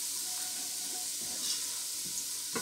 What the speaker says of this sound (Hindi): अब हम प्राउन्स को डाल के थोड़ी देर भूनते हैं